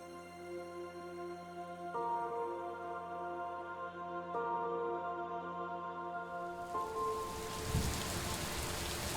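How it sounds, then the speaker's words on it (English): Steady rain pours in the Superliminal video game, a continuous hiss beneath sustained musical tones, rising into a heavier wash of falling water near the end. "Oh, it's raining."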